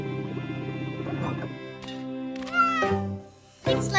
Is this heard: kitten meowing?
yes